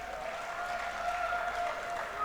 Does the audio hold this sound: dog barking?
no